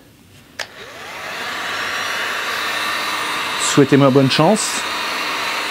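A heat tool blows hot air onto a car windshield being prepared for gluing, a steady whooshing hum that starts abruptly and runs close and loud, with a person speaking briefly over it.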